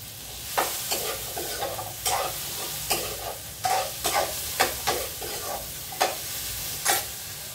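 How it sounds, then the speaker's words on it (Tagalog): Sweet potato (kamote) fries in a pan with a constant sizzle, broken by repeated scraping stirs of a utensil about once a second, close and clear with no talking. "Palutuin muna natin yung kamote mga idol."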